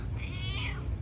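A single cat gives a short, clear meow close by, rising and falling over about a second against light background noise.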